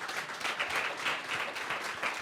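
An audience applauds to vote on whether to invest in a company during an export-themed business event. The clapping is moderate and fairly faint, a steady patter of many hands with no voices.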